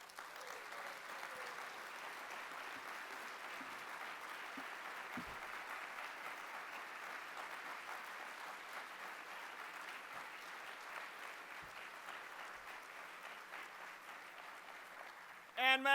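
Sustained audience applause following a line in a 2016 ACM keynote address, a dense, steady wash of clapping from a large crowd lasting throughout, heard from a distance in a hall.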